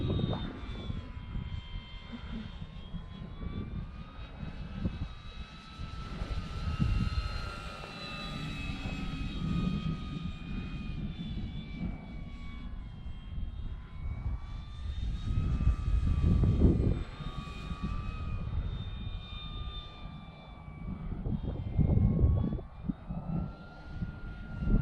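Electric RC model Dynam Hawker Hurricane V2 warbird in flight, its motor and propeller whining and droning continuously, rising and falling in pitch as the plane passes back and forth at a moderate distance, with no talking.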